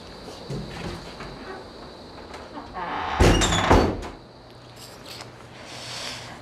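A door swings shut with a solid thunk, briefly loud in the middle of an indoor scene, over a low background hum.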